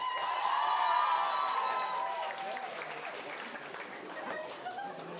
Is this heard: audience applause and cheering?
yes